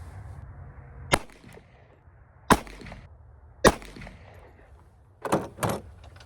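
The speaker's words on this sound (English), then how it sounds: "So I'm going to shoot 1 3-shot group with these" An EAA Witness .45 ACP pistol fires 200-grain semi-wadcutter rounds at a range: sharp, loud reports spaced a second or more apart, with a final closer pair of shots, each decaying quickly over quiet room tone.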